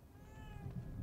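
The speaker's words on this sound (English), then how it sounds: "Black cat." A cat meows in The Evil Within 2 video game, a single drawn-out call with rising and falling pitch, heard close and clear over a low game background hum, with no talking.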